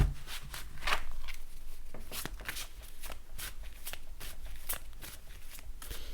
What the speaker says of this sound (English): I'm shuffling the cards